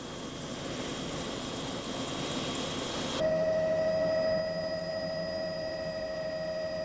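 A helicopter turbine starts up on the ground in a remote mountain region, a steady whining roar that shifts abruptly partway through into a sharper, tonal turbine whine and then holds steady, with no one talking.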